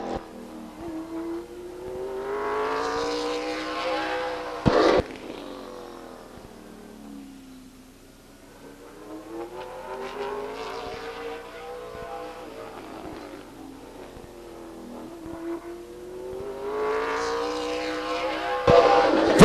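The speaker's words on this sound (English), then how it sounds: "From San Jose, in the number 0 car, that's Dave Bird." Stock cars race around the Stockton 99 Speedway oval, engines swelling as each car passes close by and fading away again, repeated roaring sweeps with a couple of sharp bangs and no talk.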